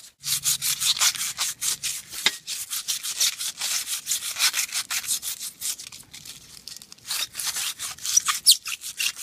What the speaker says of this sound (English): ball it up like this and just get along a rusted surface like this and just begin scraping along like that